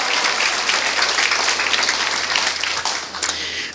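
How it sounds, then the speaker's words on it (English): An audience at a county fair queen contest gives the judges a sustained round of applause, dense steady clapping filling the hall and tapering slightly toward the end. "Round of applause for our judges."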